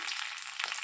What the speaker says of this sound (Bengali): তেল দিয়ে প্রথমে আমি এই যে 2টো তেজপাতা দিয়ে দিচ্ছি